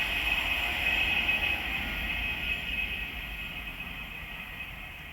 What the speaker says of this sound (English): The next train to pass by is an Avanti West Coast class 390 Pendolino from Liverpool Lime Street to London Euston